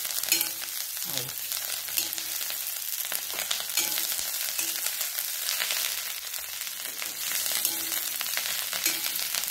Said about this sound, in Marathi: हे चांगली अशी परत खरपूस होईस्तोवर ही भाजी आपण परतणार आहे